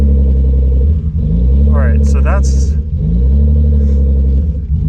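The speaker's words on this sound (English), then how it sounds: "the rough idle that I was trying to fix" A BMW E36 engine idles roughly and close by, its low rumble wavering and surging unevenly throughout while someone talks over it.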